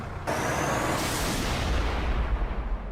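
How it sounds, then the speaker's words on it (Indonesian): Bus air brakes in the action video game God Hand: a sharp release of compressed air bursting in, then a long hissing rush that slowly fades under a low engine rumble. "A bus?"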